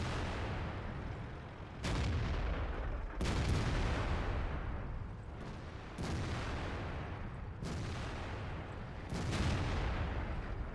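Tank cannon fire in World of Tanks: a run of heavy booming shots in steady succession, each with a long rumbling tail, loud and close with no voices.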